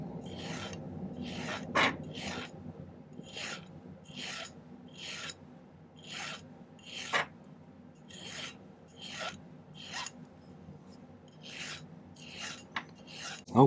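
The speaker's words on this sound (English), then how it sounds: "I'm going to do a little filing now to make these taper down to the end." A metal hand file rasps on silver bracelet hinge parts in repeated short strokes, a steady back-and-forth rhythm close to the microphone, with a few sharper scrapes and no talking.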